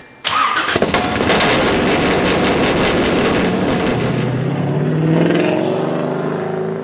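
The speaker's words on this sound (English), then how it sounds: "She was competing in her LS-swapped 350Z, a car that has claimed the hearing of many fascinated bystanders." LS V8-swapped Nissan 350Z race car (number 916) fires up with a sharp start, then roars loudly and steadily close by, its rough revving engine filling the whole stretch without talk.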